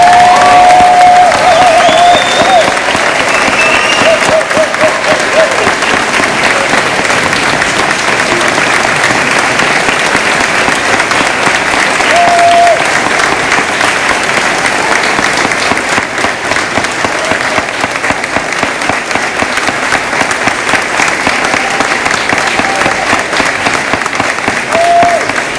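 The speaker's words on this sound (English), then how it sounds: "please stand and give a round of applause to the Corrine Wilson Secondary School graduating class of" Sustained loud applause from a large crowd at the Corrine Wilson Secondary School 2019 graduation ceremony, a dense steady wash of clapping with faint cheers mixed in, lasting throughout.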